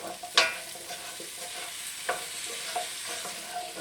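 Potatoes frying with tomatoes in a pan for a green tomato, potato and pea curry, stirred with a few distinct scraping strokes over a steady soft sizzle.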